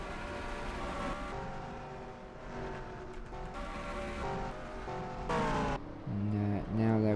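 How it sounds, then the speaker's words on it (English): Simulated stock cars in NASCAR Racing 2003 drone steadily on the oval around pit road, engine tones rising and layering as several cars pass close, ending in loud, bright bursts of nearby engines, with talk over the top. "Got cars coming into the pits."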